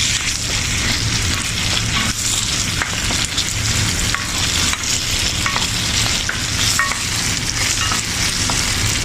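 Hot dog and tomato paste sizzle and fry in a pan while being stirred, a close, continuous crackling hiss with scraping spoon strokes throughout, and no one speaking.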